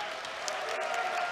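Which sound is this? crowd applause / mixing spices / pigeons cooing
crowd applause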